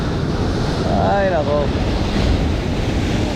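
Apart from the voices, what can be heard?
strong sea waves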